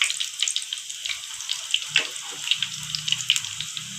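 Puri frying in hot oil in a home kitchen, a steady crackling sizzle with dense popping bubbles and occasional louder spatters, close up with no talking.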